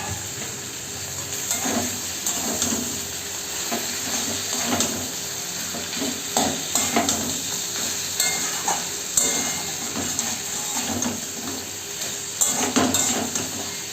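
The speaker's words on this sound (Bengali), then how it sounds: "এর মধ্যে আমি মাছের মাথাগুলো দিয়ে দেব।" Fish heads going into a pan of cooked-down spiced masala for moong dal, a steady close sizzle and fry with repeated scraping stirs and occasional clinks of utensil against the pan.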